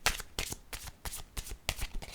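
Playing cards riffled and handled in a quiet room, with about seven crisp bursts of shuffling and drawing spaced at a steady rhythm, close and distinct, with no voices.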